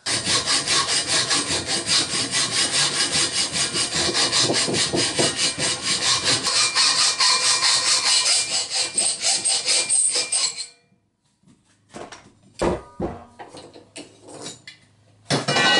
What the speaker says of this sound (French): Maintenant, on va scier le bas de la pièce.